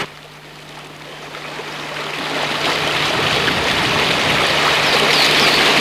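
The Kapila River flows in a broad, steady roar that grows gradually louder, with a faint low hum beneath it.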